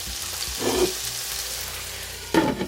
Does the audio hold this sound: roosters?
no